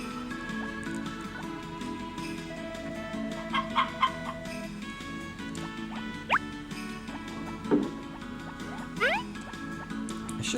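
Chickens in the video game Harvest Moon Back to Nature let out scattered short clucks over soft looping background music, with a brief chime partway through and no talking.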